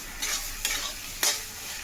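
Mashed ivy gourd sautés in a pan, soft sizzling broken by three brief scrapes of a spatula stirring it, close and clear with no talking.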